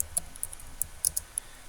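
Faint keystrokes on a computer keyboard entering a city name into a map search, a handful of light, irregular clicks spread over under two seconds.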